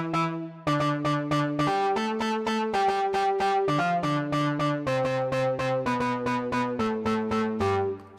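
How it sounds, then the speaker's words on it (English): Aggressive bass synth patch played on a keyboard, a steady run of clear, punchy notes in a quick rhythm with changing pitches, loud and alone with no voices. "So that was the bass being played."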